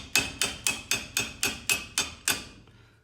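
Eight evenly spaced metallic hammer blows drive a worm gear into the work table of a mill-drill, each strike sharp and ringing briefly, close and loud with no talk.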